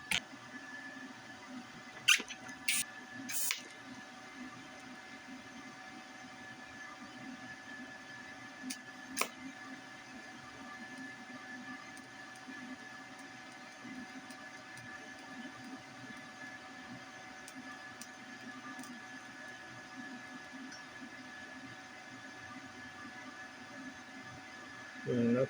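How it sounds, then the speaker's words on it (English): A YesWelder TIG-205P TIG welder works on 304 stainless steel exhaust components, giving a steady, low electrical hum and buzz with a few sharp clicks near the start. "Welding some exhausts with my Knights Welding torch."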